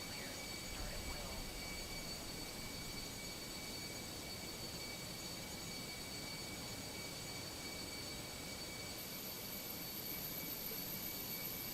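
Airliner jet engines run in a flight simulator on an Air Canada flight from Toronto to Boston, giving a steady, unbroken roar with a high whine layered on top, constant throughout with no talking.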